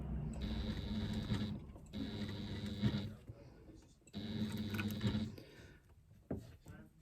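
A sewing machine runs over a fabric seam with a hump jumper under the presser foot, in three quiet, steady bursts of about a second each separated by short pauses, with a voice speaking briefly.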